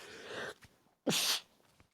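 A single person sneezes once, loud and close, a sharp burst after a moment of softer vocal sound, followed by quiet.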